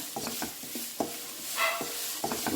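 Onion sautéing for a cabbage curry, stirred in a pan with soft sizzling and a few light scraping strokes of a spoon, close and fairly quiet.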